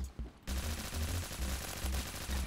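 Rapid automatic gunfire bursts rattle almost continuously in Roblox Phantom Forces on a Brazil-themed map, close and loud after a brief quiet start.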